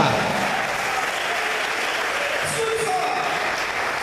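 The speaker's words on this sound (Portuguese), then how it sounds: "Aplauda Jesus, igreja." A church congregation applauds steadily and loudly throughout a worship service, a dense continuous wash of clapping with crowd murmur mixed in.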